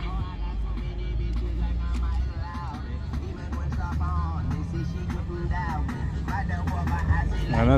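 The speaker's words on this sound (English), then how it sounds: "Another Hellcat pulling up back there." A Dodge Hellcat rumbles as it pulls up at an exotic car show, a low steady engine drone in a crowd where people talk throughout.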